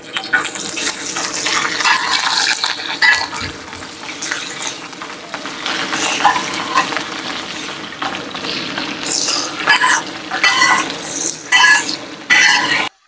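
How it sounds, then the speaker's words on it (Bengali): Carrots and green chillies frying in hot oil for village-style chow mein, a loud, steady sizzle with bursts of stirring and scraping that swell and fade throughout, no talk. "এবার গাজর আর কাঁচা লঙ্কা ফ্রাই করব।"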